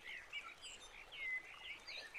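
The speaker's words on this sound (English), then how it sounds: "listening to the birds, listening to the sound of the falling water" Faint high chirps and tweets from several birds twitter continuously in the distance over a quiet background.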